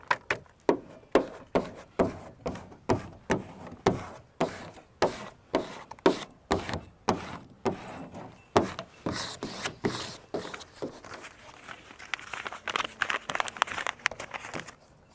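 A vinyl cutter cuts out the number 4 with a quick, steady series of sharp ticking and chopping strokes. The rhythm speeds up and then blurs into a softer scraping whir toward the end, and no one speaks.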